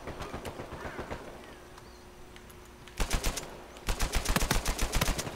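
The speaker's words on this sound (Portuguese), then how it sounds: "Tiro na bunda, tiro no cu, tiro no cu!" Gunfire in the video game Uncharted 4: A Thief's End. Scattered shots over a low background give way to rapid machine-gun bursts, a tight volley, then a short pause and another fast, sharp string of shots, close and fairly loud.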